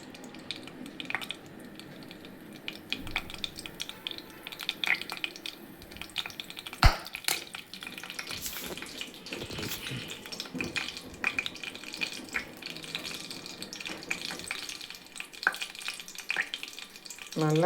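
Mustard seeds, fennel and urad dal frying in hot oil for an ivy gourd stir-fry, a steady close crackle with scattered sharp pops and spits throughout, no voices.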